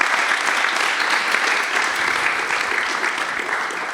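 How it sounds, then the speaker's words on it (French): Audience applauding at an informal talk event, dense steady clapping from many hands that fills the whole stretch without a break. "Un tonnerre d'applaudissements."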